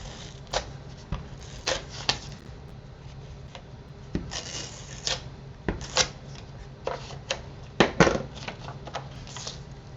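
Seal Plus adhesive being dabbed onto a paper envelope flap, heard as soft, irregular clicks and taps scattered over ten seconds, close and fairly quiet, with no talking.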